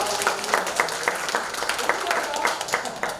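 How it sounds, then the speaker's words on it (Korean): A church congregation at a Sunday service applauds together, with rhythmic clapping in a steady beat throughout and faint voices mixed in. "우리 박수 쳐드리겠습니다."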